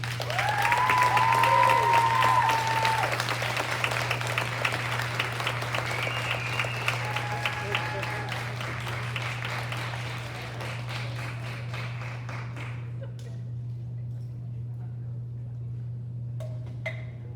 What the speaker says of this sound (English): everyone can please join me in one final round of applause for our students